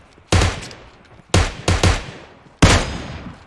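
Four sharp gunshots in the mobile game PUBG Mobile, loud and close, the middle pair fired in quick succession, each trailing off in a short decay, with no voices.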